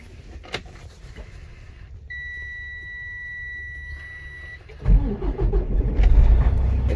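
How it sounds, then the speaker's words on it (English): A 2010 Freightliner Cascadia truck engine starts: a chime beeps steadily for a few seconds, then the starter cranks and the diesel catches into a loud, rough, rumbling idle close by. "we are going to turn on the engine"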